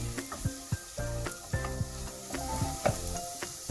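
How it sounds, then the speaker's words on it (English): Garlic sizzles in a hot pan, a steady crackling hiss broken by repeated clanks and scrapes of a utensil stirring. "move that around so the garlic gets cooked"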